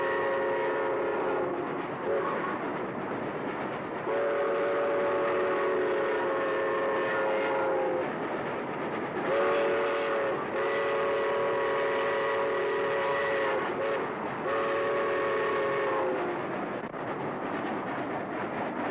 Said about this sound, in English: Why is this locomotive so legendary? Is it the whistle?